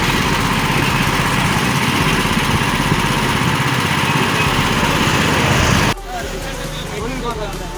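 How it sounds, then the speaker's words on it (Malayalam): A sugarcane juice machine runs with a steady, loud motorized drone that cuts off abruptly near the end, leaving quieter background noise. "ഈ മെഷീൻ്റെ അകത്തിട്ട് സ്റ്റാർട്ട് ചെയ്ത് ഈ മെഷീൻ്റെ അകത്തിട്ട് ജ്യൂസ് ഉണ്ടാക്കുവാണേ"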